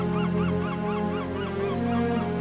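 Seabirds call in a steady chorus of repeated honking cries over a constant low background drone, with no voices.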